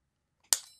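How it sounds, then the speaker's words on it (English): Beadalon snips make one quick, crisp snip while cutting out a paper die cut for a wedding card. The single sharp click is faint and close, set against silence. "I'm going to take my Beadalon snips and just cut out that."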